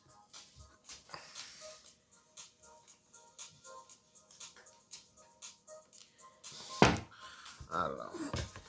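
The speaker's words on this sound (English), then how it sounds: "That sound is my dogs." Dogs whimper and yip faintly in the background, with a louder burst of barking or scuffling near the end.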